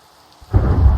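Thunder rumbles in a Minecraft thunderstorm with rain, starting quiet and swelling into a loud low continuous roll over the last half.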